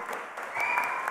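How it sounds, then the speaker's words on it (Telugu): Audience at a film event clapping: a brief, dense burst of applause that swells slightly and holds steady, with no voice on top. "గట్టి కొట్టండి దీనికి"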